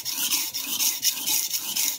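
A stainless steel santoku kitchen knife ground on a sharpening stone at the heel to remove small chips, with steady rhythmic rasping strokes, about two per second, loud and close with no talk.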